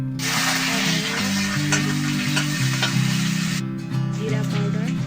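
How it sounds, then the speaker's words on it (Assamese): Onions frying and being stirred in a wok with cumin seeds and dried chillies for a papaya curry, a loud continuous sizzle with scraping stirs throughout, under steady background music. "এনেধৰণে পিঁয়াজখিনি ভাজি ল'ম।"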